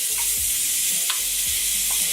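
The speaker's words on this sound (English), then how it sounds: "stirring it with our wooden spoon until the onion gets translucent" Onion, garlic and ginger fry in plain vegetable oil with a pinch of salt, a loud continuous sizzle close by, broken by a few dull scrapes of a wooden spoon stirring through the pan.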